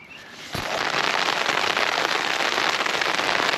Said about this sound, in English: Under the tarp, in the rain.